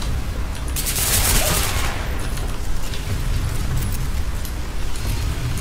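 Gunfire in the video game Hatred, a dense burst of shots around the first couple of seconds, then a steady rumble of continued firing and noise without speech.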